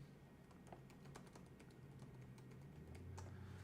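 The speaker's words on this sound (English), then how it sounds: "Let me type a little message here." Computer keyboard keys tapped out in irregular bursts while a chat message is typed, close and fairly quiet over a steady low room hum, with no talking.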